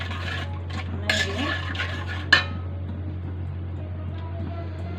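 A spoon scrapes and clatters in a pan as spice masala is stirred and fried for a rui fish curry: a few close metallic knocks and scrapes, one sharp clink, over a steady low hum, with no talk.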